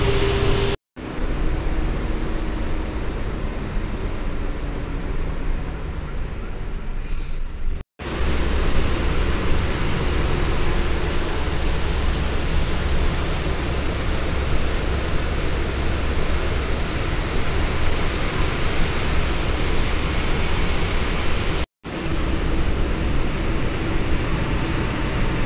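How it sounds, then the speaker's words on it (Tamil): Loud, steady engine drone of a Mutharamman Travels intercity bus heard from inside the driver's cabin on an Udangudi to Chennai run, a constant broadband roar with two brief cuts to silence. "கேபினில் உட்காந்துருக்கும் போது இன்ஜின் சவுண்ட் பயங்கரமாக இருந்துச்சு"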